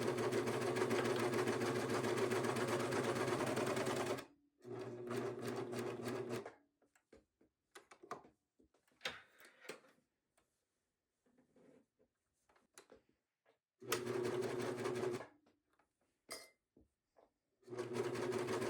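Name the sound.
sewing machine sewing a quilted bag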